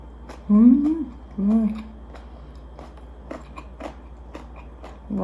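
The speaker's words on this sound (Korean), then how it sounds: "당근 라페를 먹어보겠습니다." Crunchy grated carrot râpée is bitten and chewed close up, with several crisp crunches spaced out over a few seconds, and a person makes short voiced sounds between bites.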